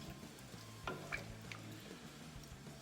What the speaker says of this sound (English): You can stir this